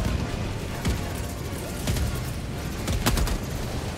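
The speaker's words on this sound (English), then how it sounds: "Watch out for the airstrike, Altero." Eagle airstrike in Helldivers 2 with a dense fusillade of explosions and gunfire, several sharp booming bursts over a continuous roar of battle noise, loud and close.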